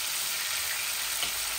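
Fish frying in a pan gives off a steady, bright sizzle, close and constant throughout, with no other sounds.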